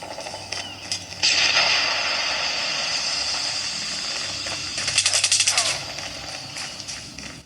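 Call of Duty played on a Motorola G85 phone, with bursts of rapid gunfire crackling over a steady noisy game soundscape, a louder volley near the middle, and a brief voice at the start.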